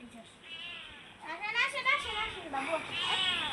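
A stray cat meows in a few rising and falling calls, close and moderately loud, with voices talking nearby.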